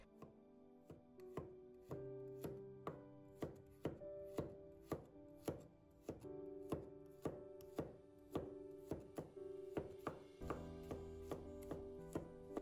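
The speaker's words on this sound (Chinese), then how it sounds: "把大蒜子切成片" A knife slices garlic cloves on a cutting board in a steady run of crisp, evenly spaced taps, close up but quiet, about two cuts per second with no talking.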